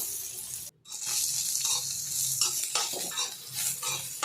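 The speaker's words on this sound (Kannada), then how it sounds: "ಎಲ್ಲ ಚೆನ್ನಾಗಿ ಫ್ರೈ ಆಗಬೇಕು ಅಲ್ಲಿವರೆಗೆ ಲೋ ಮೀಡಿಯಂ ಫ್ಲೇಮಲ್ಲೇ ನಾವು ಫ್ರೈ ಮಾಡ್ಕೊಬೇಕು" Three dried red chillies frying in oil over a low-medium flame, with a bright continuous sizzle, repeated scraping and stirring of a spoon against the pan, and a brief dropout near the start.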